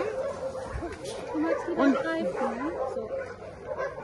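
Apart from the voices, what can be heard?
large dogs barking and whimpering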